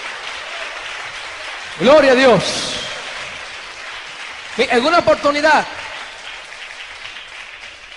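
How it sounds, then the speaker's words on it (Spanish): A church congregation applauds during an evangelical sermon, two bursts of clapping a few seconds apart, while a preacher's voice speaks loudly over the room. "Dale un aplauso a Cristo y nos vamos ya."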